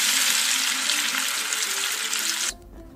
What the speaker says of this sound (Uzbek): Ustidan dumbamizni va ozgina pista yog'i solib kartoshkalarimizni qizarguncha qovurib olamiz.